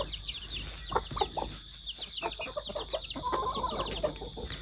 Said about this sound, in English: Morning chicken antics.